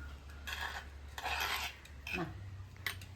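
Cooked rice being stirred and turned in a clay pot with leftover leafy-green curry gravy, soft scraping and rubbing strokes in several bursts, quiet and close, with no talking.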